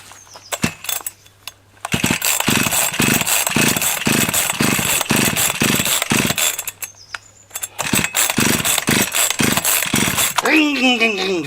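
A cheap chainsaw is pull-started after being choked and primed but won't catch. Repeated rhythmic rasping pulls of the starter cord come in two long runs with brief sputters, close and loud, while a voice talks in between.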